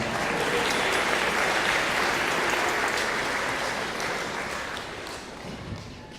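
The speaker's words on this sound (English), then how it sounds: "Give them a round of applause." Audience at a school fall concert applauds a 7th grade string orchestra: thick, sustained clapping from many hands, loud at first and slowly tapering off near the end, with no talk over it.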